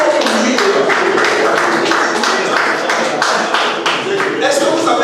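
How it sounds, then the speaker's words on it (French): Audience clapping in a group at a land-management training session in Yaoundé, a loud, dense patter of many hands that lasts several seconds, with voices mixed in. "Applaudissez pour lui."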